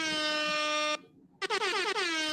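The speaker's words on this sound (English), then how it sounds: "Got to hit y'all with them air horns." Two bursts of a loud, brassy air horn sound effect: a long sustained blast, a brief gap, then a second blast with a wavering, sliding pitch.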